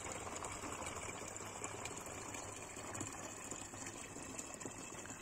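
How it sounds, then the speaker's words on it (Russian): Steady rushing and gurgling of spring water pouring into a 5-litre bottle, continuous and close, with no voices. "Ладно, будем набирать водичку."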